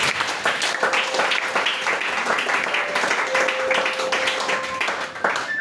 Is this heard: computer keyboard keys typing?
no